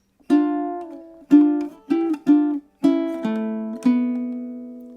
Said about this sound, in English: We're going to start plucking single notes.